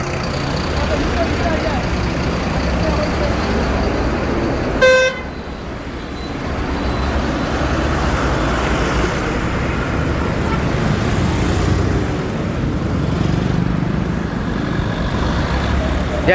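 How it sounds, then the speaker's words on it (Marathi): Dense, steady road traffic on the Pune–Nagar highway near Wagholi, with vehicles stopping on the roadside: a constant engine and tyre roar close by, a single short car horn toot near the start, and faint talk in the background. "हायवेला त्याच्यामुळे ट्रॅफिक जाम होते"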